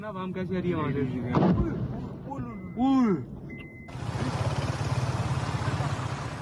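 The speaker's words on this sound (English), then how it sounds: "Loud explosions filled the sky in the early hours of the morning" Several loud booms and blasts roll out in the early morning sky in Pakistan, with whistling tones and a sustained roaring rumble afterward, some of it mixed with distant voices.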